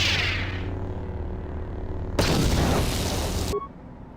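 A frag grenade goes off in Knights of the Old Republic 2, a sudden broad blast that roars for over a second and then cuts off, after a fading whoosh.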